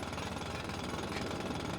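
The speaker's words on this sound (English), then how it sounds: "Do I also need to ask nicely for you to stop drilling?" In the video game GTA RP on the NoPixel server, a loud, steady, harsh drilling roar hammers on without a break, close and dense, filling the moment.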